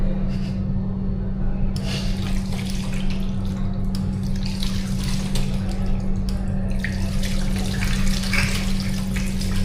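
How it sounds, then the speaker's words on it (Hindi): A tap runs steadily while hands are washed, a continuous splashing hiss with small irregular spatters over a low steady hum. "हमेशा याद रखना साबुन लगाने के बाद हमेशा हाथों को धोना है"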